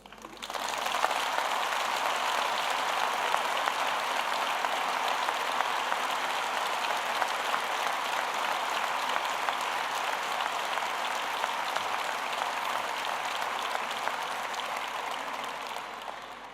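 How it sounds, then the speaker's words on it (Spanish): Long, dense applause from a political rally audience in Seville, rising quickly and holding steady and loud for over fifteen seconds before easing slightly. "Sabía que ibais a aplaudir"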